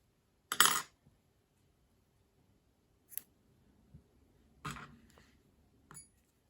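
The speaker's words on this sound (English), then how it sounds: "So we're going to cut and tie the yarn." Scissors cut yarn after a round of a crochet half-sunburst granny square, with four quiet, crisp snips spread apart in an otherwise silent room.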